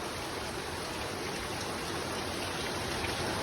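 Steady rain pours down during a windy storm, a dense, even hiss that holds constant from start to finish with no gaps or voices.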